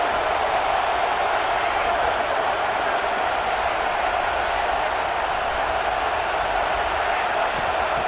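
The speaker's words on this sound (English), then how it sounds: "this crowd is fired up. Listen to this noise here." A stadium crowd at a Michigan vs Ohio State college football game roars in a dense, unbroken wash of cheering and noise that holds steady throughout.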